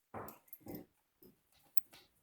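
A pet dog gives several short whimpering, growly vocal bursts close by, a pair of louder ones followed by softer fading sounds.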